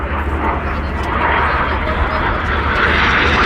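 Red Arrows jets roar past in a power roll flypast at an air show, a loud, steady, broadband engine rumble with a commentator speaking over it.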